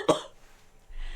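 A single short, sharp cough sounds close to the mic, followed by quiet and a low background hum.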